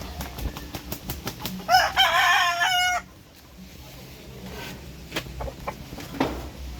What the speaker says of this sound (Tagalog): So dito tayo sa mga manok.